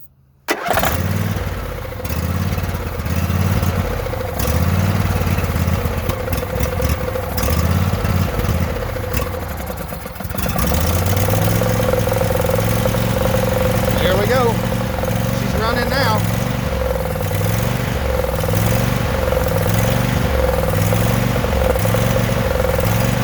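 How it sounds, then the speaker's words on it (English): A vehicle engine cranks and catches, powered by a 2000 amp LOKITHOR JA301 lithium jump starter, then runs at a steady loud idle for a long stretch, with someone talking over it. "I'm gonna try to crank it up again and see if I can get it started."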